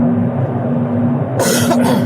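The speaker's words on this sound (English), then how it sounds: "Oh, this cough." A single harsh cough bursts out near the end, loud and close, following a stretch of muffled low background noise.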